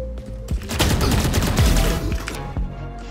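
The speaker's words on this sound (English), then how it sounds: "Shoot him through the wall, he's low." Rapid bursts of gunfire in the tactical shooter game Valorant, a dense fusillade of close, loud shots rattling for about two seconds before a final isolated shot.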